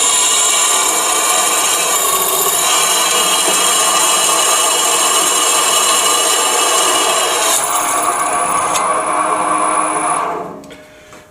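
Steady grinding, rasping drill noise as a 6mm spotting drill cuts a centre into a metal parting blade, loud and continuous, stopping abruptly near the end.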